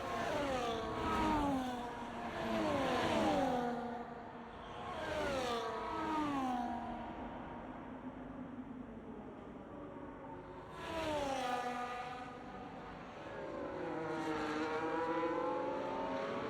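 A Mercedes race car driving down pit road, engine rising and falling in repeated revving sweeps with a steady mechanical drone, fairly close and continuous.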